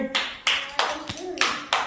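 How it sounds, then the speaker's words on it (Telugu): Children clap together in a classroom during a number game, about six distinct claps in a loose, uneven rhythm, fairly soft and nearby. "చప్పట్లు కొట్టండి"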